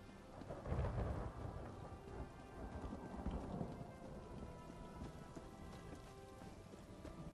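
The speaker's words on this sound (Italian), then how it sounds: "Che bel mood la pioggia" Rain pours down steadily in the video game ESO, with rolling thunder swelling early and again mid-way, a continuous dense storm wash heard alone without talk.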